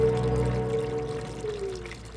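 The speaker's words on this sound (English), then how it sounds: "listen to the water bubbling up" Spring water at the Chalice Well pours and bubbles in a steady, continuous stream, close and fairly loud, with a low tonal resonance under the flowing sound and no voices.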